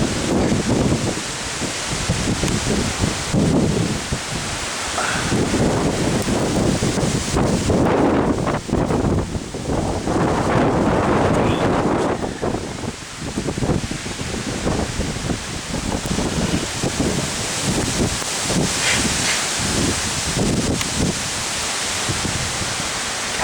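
Strong 60-70 mph wind gusts in northwest Indiana on a summer morning, a loud continuous roar buffeting the microphone, surging and easing in waves with rustling throughout.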